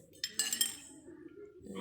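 A child's toy kitchen set of small bowls and a plate gives a brief cluster of light, close clinks, followed by a soft, quiet background.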